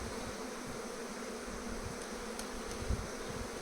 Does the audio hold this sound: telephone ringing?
no